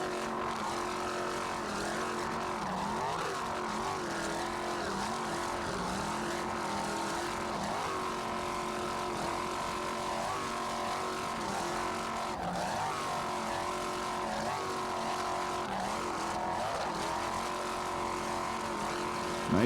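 A 24-foot Scorpion racing powerboat engine throttles steadily at speed during a 1994 South Padre Island race, a loud sustained buzzing drone that rises and dips in pitch with the throttle.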